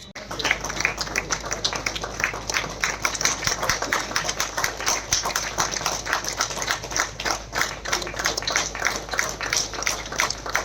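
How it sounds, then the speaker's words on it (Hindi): An audience at a martyrs' memorial unveiling ceremony claps steadily and fairly loudly, the applause sustained and even throughout with a low hum underneath. "तालियों में अभी दम दिखनी चाहिए"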